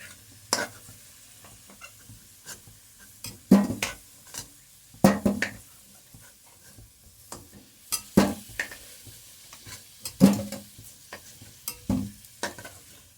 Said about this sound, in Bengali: আলুটা তাকে ভাজা হোক।